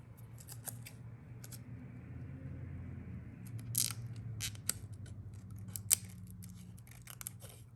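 Scissors snipping tape while trimming a Cricut mug design, a few quiet, scattered crisp cuts over a faint low room hum with no talking.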